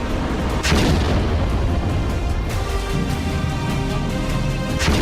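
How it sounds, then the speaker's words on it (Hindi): Explosions on an Iranian warship at sea, beyond India's maritime boundary: a steady heavy roar broken by several sharp, booming blasts, with no voices. "भारतीय समुद्री सीमा से बाहर एक ईरानी युद्धपोत पे ऐसा धमाका हुआ"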